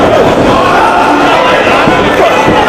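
A wrestling arena crowd at a 2004 Ring of Honor world title match chants for Samoa Joe, a dense, loud, steady roar of many voices filling the hall without a break.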